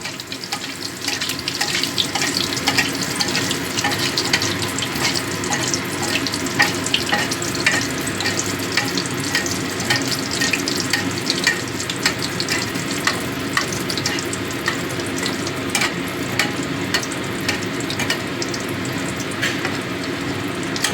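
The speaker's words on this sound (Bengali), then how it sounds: "এবার এই লো ফ্লেমে ভেজে নেবো" Batter-coated food frying in oil over a low gas flame, a steady continuous sizzle and bubbling with occasional crackles and faint clinks, heard alone without voices.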